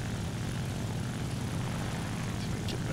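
A propeller fighter plane's piston engine drones steadily and continuously in War Thunder arcade combat, a constant loud buzzing hum with no voices.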